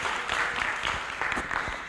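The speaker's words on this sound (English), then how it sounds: "Can we appreciate him with a hand clap as he comes?" An audience at an International Youth Day event applauds with hand claps, a dense, moderately loud patter of many hands filling a short stretch with no talk.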